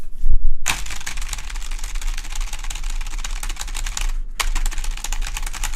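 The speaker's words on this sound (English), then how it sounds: "Hey, Atticus, I'm going to type louder just for you." Loud, rapid typing on a computer keyboard with a microphone placed right on it, dense clattering keystrokes throughout with a brief pause near the end, very close and harsh.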